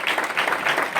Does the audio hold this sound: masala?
no